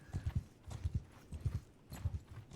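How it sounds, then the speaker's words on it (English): Horse hooves from Mount and Blade 2: Bannerlord beat in a fast, steady galloping clip-clop, close and prominent, with no talking over it. "I'm on a horse, buddy."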